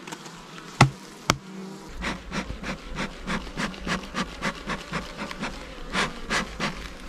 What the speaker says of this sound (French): Colonie ultra populeuse qui a l'air ultra pas contente.